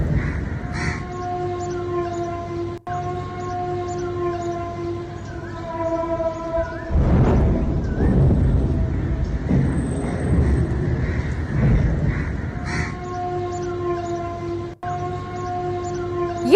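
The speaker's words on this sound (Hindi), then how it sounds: "ये सुन रहे हैं आप सायरन, ये कई किलोमीटर तक ये आवाज सुनाई दी है।" An air raid siren wails over Lahore, its sustained tone rising and falling from some distance while crows caw loudly nearby, and a rushing burst of noise briefly swamps the middle.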